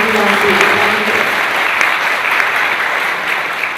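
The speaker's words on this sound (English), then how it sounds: "please give him another big round of applause" Audience applause at an academic real estate society conference after a presentation, steady dense clapping from a large crowd in an auditorium, loud and sustained throughout, with a brief voice at the start.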